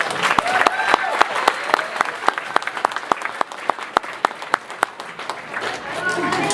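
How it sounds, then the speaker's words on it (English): Sustained applause from a crowd at a company awards banquet honoring ten-year employees, dense steady clapping with sharp individual claps standing out throughout. "one more round of applause for our 10-year people"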